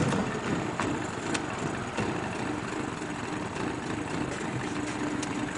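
A Sheelin engine idles as it warms up on its first outing, a steady close rumbling run with faint periodic ticks and no clear talk over it.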